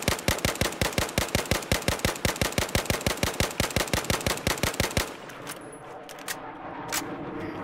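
An M416 assault rifle in Battlefield 4 fires a fast, even burst of about two dozen loud, close shots, then stops, leaving faint in-game ambience and a few small clicks.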